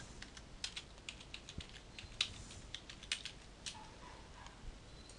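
Keys tapped on a computer keyboard while entering a chart title, a quiet irregular run of close clicks and patters, fairly faint against a low background hiss.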